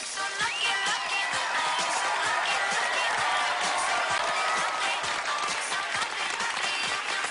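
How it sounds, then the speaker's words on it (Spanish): Sustained applause from a crowd, dense clapping with a few scattered cheers, constant in loudness from start to finish. "También les pido un gran aplauso para los jóvenes del NEC, que son nuestro futuro."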